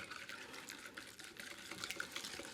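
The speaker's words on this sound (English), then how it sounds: "you pour it into your egg yolks with the sugar. And keep whisking with it" Hot cream is poured into egg yolks and sugar for crème brûlée while being whisked, giving a soft, steady trickling with light liquid splashing and faint whisk scraping.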